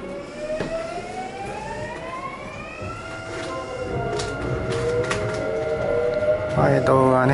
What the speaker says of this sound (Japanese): 近鉄電車で神戸まで帰ります。